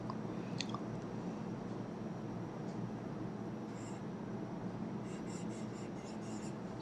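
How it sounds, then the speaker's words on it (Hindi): A pen writes a sentence by hand in faint, steady scratching strokes across the paper, continuous and close beneath a soft room hiss. "चलिए वाक्य लिखते हैं।"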